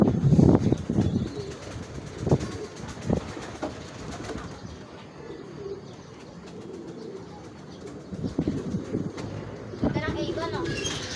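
Racing pigeons coo softly at a Filipino fancier's loft during training, low murmuring calls repeating irregularly under frequent nearby conversation.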